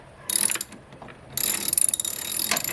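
Ratchet wrench being spun to tighten a fitting on a car: a short clicking burst followed by a longer, faster run of rapid ratchet clicks, close up and alone.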